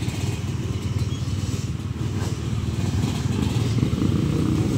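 An old GT motorcycle idling nearby, a steady low throbbing engine rumble with a rough, pulsing texture and constant wind-like hiss, loud and continuous without talk.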